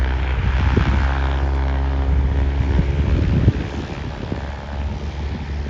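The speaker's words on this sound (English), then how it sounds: "So a plane's going to come into land, which we'll try and get for you." A small propeller plane at an airfield drones steadily and fairly close, its engine roar holding loud throughout with gusty wind buffeting the microphone.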